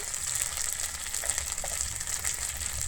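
Ground spices, including coriander powder, Kashmiri chilli powder and turmeric, sizzling in oil in a pan for a Bengali jackfruit and potato curry, a steady hissing fry heard close with no talk.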